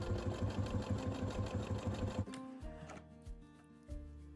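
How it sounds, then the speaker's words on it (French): Sewing machine stitching a straight seam along pinned fabric for a saddle cover, rapid even needle clatter for about two seconds, then it stops, leaving a few soft handling knocks. "on veut maintenant coudre en suivant nos épingles avec une couture droite"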